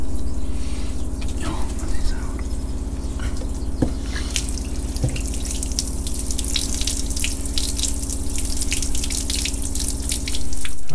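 Water drains from a motorhome boiler through an outside tap, giving a steady, continuous trickle and splash with occasional drips throughout, fairly close and alone.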